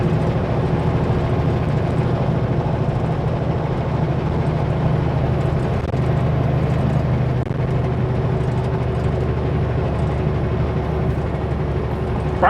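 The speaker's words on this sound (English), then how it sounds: "In fact, I'm giving it a little throttle." A heavy Super B truck in a trucking game climbing a foggy Canadian mountain grade under throttle, giving a steady, loud low engine drone with a constant rumble and no pauses.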